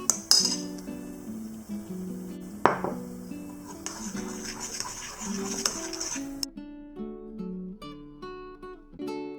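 A spoon mixes wheat flour batter in a bowl for Kerala sweet bonda, with light scraping and scattered metallic clinks under steady background music.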